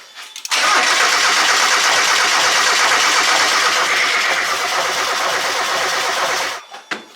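A Mazda Miata's engine cranks loudly and steadily for about six seconds, a dense churning whir close by, then cuts off abruptly without catching.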